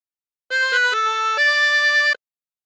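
A harmonica plays a short phrase of God Rest Ye Merry Gentlemen using bent notes, four or five clean sustained tones in a row, clear and close with no talking.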